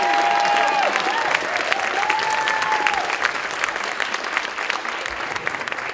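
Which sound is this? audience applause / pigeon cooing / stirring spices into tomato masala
audience applause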